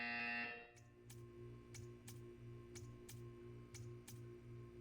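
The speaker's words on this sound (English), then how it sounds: "You will hear a buzzer." A harsh electronic buzzer in Portal 2 sounds briefly, then a regular series of sharp ticks and low pulsing beeps repeats steadily, with no voices.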